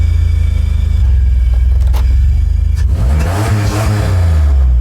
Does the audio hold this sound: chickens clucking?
no